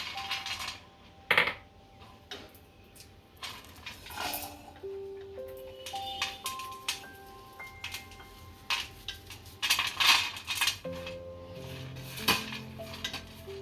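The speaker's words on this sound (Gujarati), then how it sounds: "સિંગદાણાના ફોતરા કાઢી નાખશું પહેલા." Roasted peanuts are rubbed to loosen their papery skins, giving intermittent dry clattering and rattling against a metal dish, with some sharper clinks, over faint background music.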